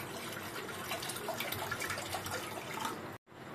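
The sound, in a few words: water poured into a cooking pot on the gas stove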